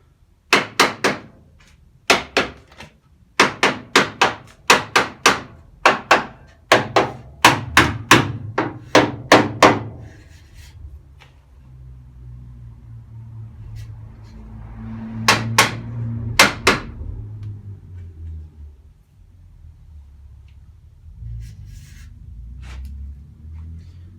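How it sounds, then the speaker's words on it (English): Sharp metallic taps from the back end of a hammer seating seam strips on a 1964 Mk1 Mini body, a quick irregular run of close, loud strikes, then a pause and a few more taps over low room hum. "so I'm just going to use the other end of the hammer"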